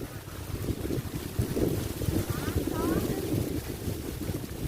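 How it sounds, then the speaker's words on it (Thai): Strong dry wind roars steadily across an open rural spot at Huai Tha in Sisaket province, Thailand, as a continuous buffeting rush against the microphone with low rumbling gusts and a faint voice in the background. "ลมแห้งเลยพี่น้อง โอ้ลมขัด"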